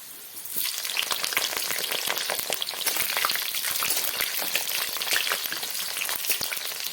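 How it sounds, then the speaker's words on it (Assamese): Potatoes frying in a pan of oil for a meat and potato dish, a steady close sizzle with dense crackling pops running continuously from just after the start to the end, no voices. "আলুখিনি প্ৰায় ধুনীয়াকৈ ফ্ৰাই হৈ গৈছে"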